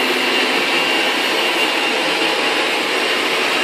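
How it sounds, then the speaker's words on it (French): A vacuum cleaner runs on a wooden parquet floor with a constant, loud, even whooshing roar and no breaks or voices. "il passe l'aspirateur"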